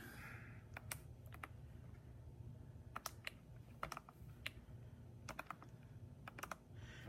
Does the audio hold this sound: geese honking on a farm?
no